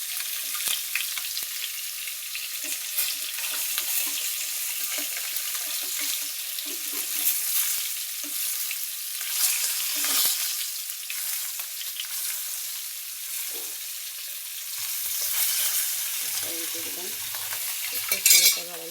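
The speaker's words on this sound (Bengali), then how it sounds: "আর এই জায়গায় আমি মাছ ভাজি করতেছি।" Fish frying in hot oil in a home kitchen, a steady close sizzle with faint stirring and clatter, running the whole time with no talk.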